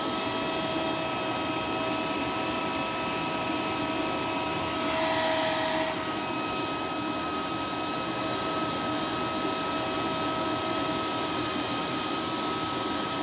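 Lindhaus Aria Elite vacuum cleaner running during a hose airflow test, a continuous loud whooshing motor roar with a brief surge in tone midway, no voices.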